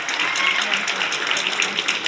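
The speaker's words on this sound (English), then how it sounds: "will you give them a big round of applause" Loud, close applause from an audience at a county final quiz and talent competition, a busy patter of many hands clapping steadily throughout with some crowd murmur mixed in.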